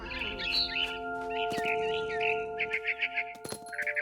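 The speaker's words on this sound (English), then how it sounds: "It was a barn swallow going back to her nest." Barn swallow chirping in the video game What Remains of Edith Finch, bright repeated twittering bursts over a sustained musical tone, with a few sharp knocks, no talk.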